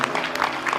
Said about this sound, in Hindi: प्रेम से तालियां बजाएं।